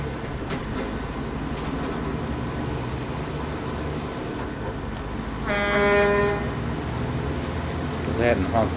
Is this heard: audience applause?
no